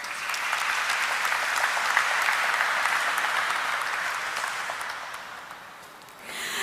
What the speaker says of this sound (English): let us have a resounding of claps to mark the celebrations that begin now